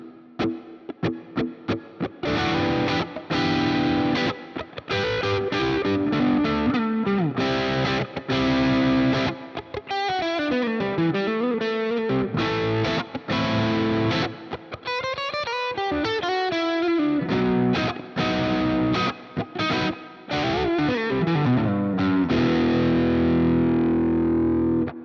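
Electric guitar plays neo soul and R&B licks with effects and chorus, mixing plucked chords, fast runs and sliding bends, loud and close with no talking.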